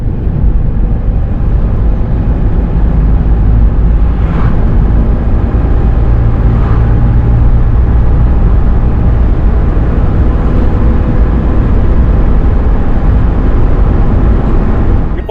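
Heard from inside, a car accelerates up to 80 km/h as a loud, continuous engine and road roar that holds steady and dense throughout, with faint brief whooshes and no talking.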